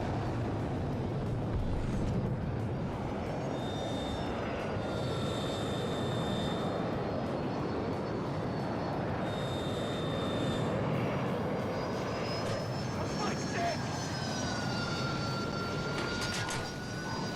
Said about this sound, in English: Oh, is that? It's a jet, it's a jet.